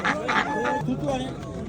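Chickens and a rooster at a crowded poultry market in Xo'jaobod, with repeated clucking and a crow-like call over steady background chatter from people nearby.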